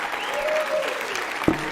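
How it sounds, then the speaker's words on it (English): Audience applause at a UFC Hall of Fame induction, a steady broadband wash of clapping from a large crowd with a faint voice threaded through and a brief thump near the end. "Round of applause for Lucas, everybody"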